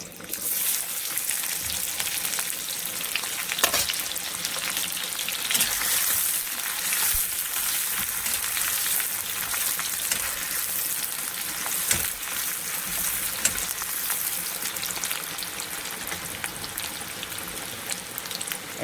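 Chopped onions fry in a pan for a chowmein recipe, giving a steady, dense sizzle that stays even throughout with only occasional small pops and no talking.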